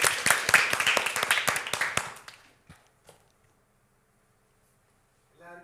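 A group of children clap together at a church children's programme, a quick run of sharp, fairly loud claps over about two seconds that fades out into near silence with a few stray taps.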